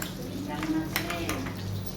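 A spoon scrapes and clinks against a bowl while a chilli chicken sauce thinned with a little water is stirred together, producing soft, close, irregular tapping over a steady low background hum.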